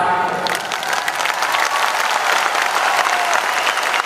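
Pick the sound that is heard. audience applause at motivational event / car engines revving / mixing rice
audience applause at motivational event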